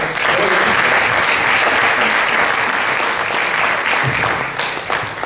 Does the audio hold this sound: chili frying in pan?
no